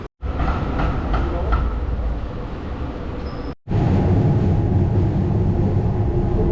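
Loud steady rumble of a metro train ride in Australia, with a continuous roar of wheels and carriage noise, a brief drop to near silence partway through, then the heavy rolling din resumes.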